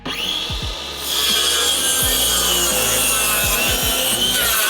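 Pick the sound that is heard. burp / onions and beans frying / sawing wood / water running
sawing wood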